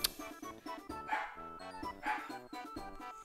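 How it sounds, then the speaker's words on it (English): A dog barks and yips repeatedly in a quick, uneven series at moderate distance, heard over tonal game music from Mario Party 2. "my dog is barking"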